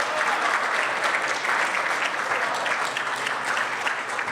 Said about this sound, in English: That is an applause line if I've ever seen one